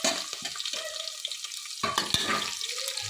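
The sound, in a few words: vegetables frying in a pan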